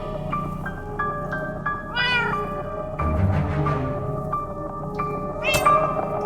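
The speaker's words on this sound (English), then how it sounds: "No, Winslow! Bad kitty, stop it!" Winslow the cat meows in Minecraft Story Mode, giving several distinct, clear meows at irregular intervals over a soft game background.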